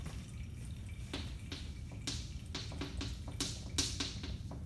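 Water drains out of a beaker spout in a lab measuring Archimedes' principle, with irregular close drips and small splashes falling over a steady wet background.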